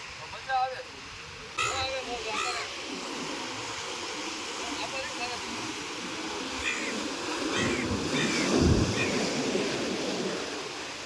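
Sea waves wash onto the shore at Diu in a steady, broad rushing surge, with people talking faintly over the surf near the start.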